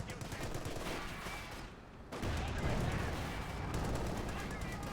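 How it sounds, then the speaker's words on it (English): Battle sounds from Company of Heroes 2, with a steady rattle of gunfire and heavier blasts that fit tank cannon fire from a Jackson tank destroyer's 90mm gun against a Panther, continuous and dense, with a brief lull midway. "Panther 4 being hammered here by the Jackson tank, just unleashing a torrent of death there from its 90mm gun."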